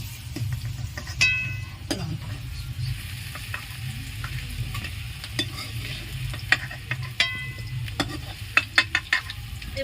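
Potatoes fry in oil in a pan until reddish, giving a steady low sizzle, with sharp clinks and scrapes of a spatula stirring them at intervals, close and alone.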